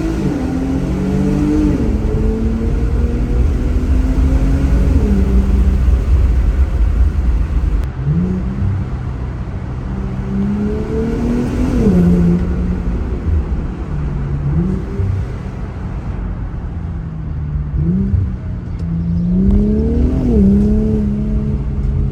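Infiniti Q car with aftermarket catback exhaust and intakes, driven through a tunnel: deep exhaust drone rising and falling in repeated revving pulls, loud and continuous, with tunnel echo and no talking.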